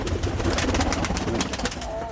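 Pigeons coo amid the steady din of a Turkish bird market, with people talking nearby and scattered calls weaving through the loud, crowded ambience.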